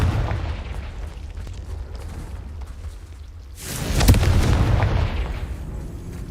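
Confringo blasting spell in the Hogwarts Legacy video game, a low rumbling game soundscape followed by a single loud explosive burst that booms and then trails off.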